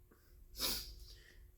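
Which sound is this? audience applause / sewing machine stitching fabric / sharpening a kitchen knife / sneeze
sneeze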